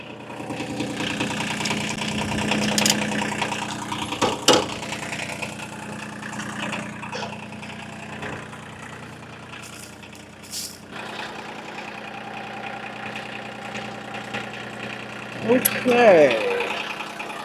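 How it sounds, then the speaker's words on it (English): A tractor engine idles and runs nearby at a steady mid-low rumble, with clanks and knocks scattered over it and a louder surge near the end. "We're bringing the tractor around, and I'm using the tractor itself to tie down that building."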